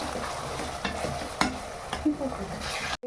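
Ginger and garlic fry in oil inside a pressure cooker for mutton biryani, a steady close sizzle broken by scraping stirs, fairly quiet and without talk.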